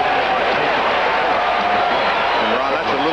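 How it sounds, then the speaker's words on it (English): Texas home crowd at a 1988 college football game against Houston, roaring steadily in response to the defense, a loud continuous wash of stadium noise with no pauses. "You can hear the Texas crowd reacting to their defense."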